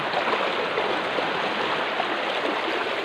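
A strong river current rushes at a bathing spot in Mangatarem, a dense, constant roar of flowing water that stays loud and even throughout, with no voices over it.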